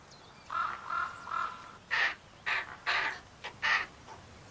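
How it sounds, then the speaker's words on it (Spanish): Ravens nesting high on rocky cliff walls in breeding season call out: three drawn, even caws, then a quicker run of harsher, louder caws, clear and close against a quiet background. "En lo alto de las paredes rocosas, muchas parejas de cuervos ya disfrutan de sus pequeños."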